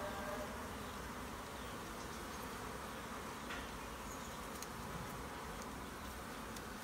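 Dense swarm of honeybees buzzing around a crowded hive in a Vietnamese bee farm, a steady, continuous close drone that fills the whole stretch without pause.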